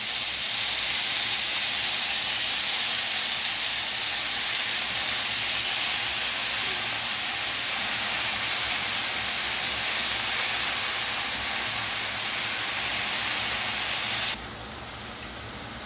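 Spring onion greens fry in a pan with a loud, dense, continuous hiss and sizzle, steady throughout and dropping slightly near the end.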